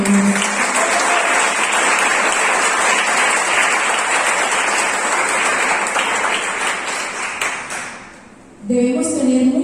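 A church congregation claps in sustained, dense applause for most of the stretch. The applause fades near the end before a voice cuts back in.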